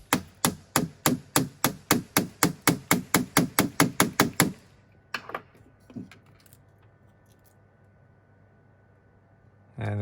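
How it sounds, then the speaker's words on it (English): Someone hammers a part out of an Autel Evo drone with about twenty rapid, evenly spaced metallic knocks, loud and close. A few scattered taps and handling sounds follow before it goes quiet. "really hammer it out."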